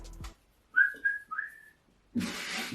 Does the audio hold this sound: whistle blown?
yes